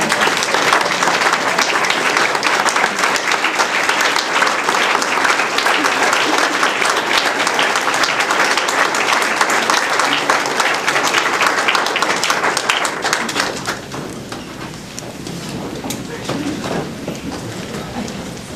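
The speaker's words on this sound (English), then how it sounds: "give them a round of applause" Loud, sustained applause from a large standing audience at an academic awards ceremony, dense clapping that holds steady for about thirteen seconds before thinning out into lighter, scattered claps.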